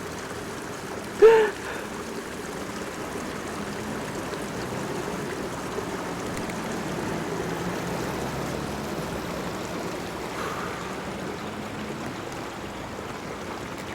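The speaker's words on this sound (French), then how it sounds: "puis la rivière qui continue comme ça." A rocky river flows steadily through a Japanese garden in Kanazawa, a soft continuous rush of water heard at a moderate distance, with one brief louder splash or knock near the start.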